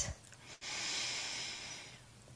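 A single slow, soft breath during a standing yoga pose, faint and close, with quiet room hiss around it.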